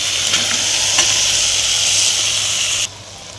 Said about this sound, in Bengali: লতি শুটকি ভালো করে কষাই নিচ্ছি।